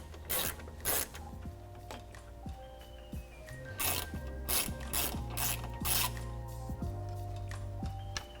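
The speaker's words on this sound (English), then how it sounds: "we're just going to use a ratchet and 10mm socket to back these out" A ratchet with a 10mm socket backs out the grille screws on a 2021-2022 Ford F-150, giving rapid, close pawl clicking in repeated bursts with brief pauses and metallic ticks.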